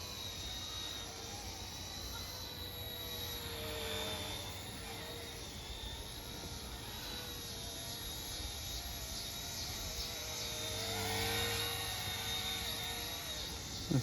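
A Z1 Bell 206 radio-controlled helicopter on its maiden flight gives a steady high-pitched turbine-like whine with broad rotor noise, continuous and fairly even, swelling slightly near the end.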